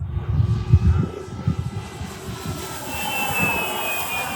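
A giant-scale model Corsair airplane flies overhead with a rushing engine and a high, thin whistle, drifting in level from nearby with a low rumble underneath.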